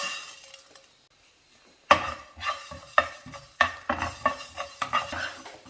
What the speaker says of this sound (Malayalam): ഇനി ഈ മല്ലി നമുക്കൊന്ന് പാത്രത്തിൽ വേണം വറുത്തെടുക്കാനായിട്ട്